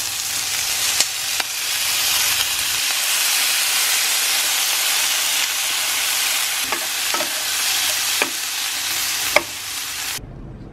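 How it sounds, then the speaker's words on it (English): Shrimp sautéing with garlic, lemon and red pepper flakes in a pan, giving a loud continuous close sizzle with scattered sharp clicks of a utensil, then cutting off abruptly at the end; no voices. "This is the lemon, garlic, red pepper flake sauteed shrimp"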